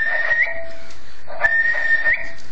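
A person whistles into a radio microphone during power measurement on an amateur transmitter, giving two short bursts of steady high tones with slight rising slides at their ends, close and clear, with no talking.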